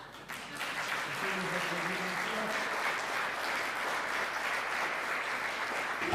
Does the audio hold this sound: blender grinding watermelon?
no